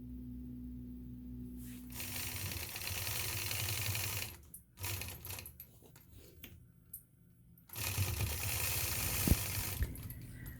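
Sewing machine stitching during stitch-in-the-ditch machine quilting with a ruler, a rapid mechanical ticking run in several bursts separated by pauses, close and fairly quiet with no talking.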